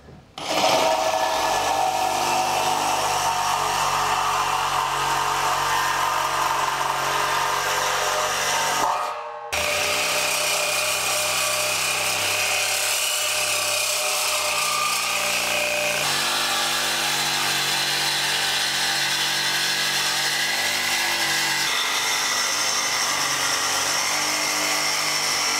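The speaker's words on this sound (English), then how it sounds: "We're just using a hacksaw here to be able to do this." A hacksaw cuts through a metal bumper bracket on a 2020 Dutchmen Cole RV, a loud continuous rasping scrape with one brief pause partway through, then steady sawing again.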